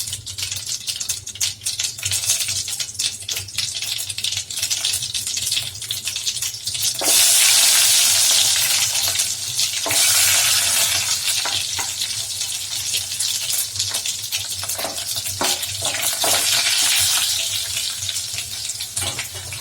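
Urad dal, green chilli and curry leaves fry in hot oil, a loud close sizzle that swells in bursts of spattering hiss and then settles, running continuously.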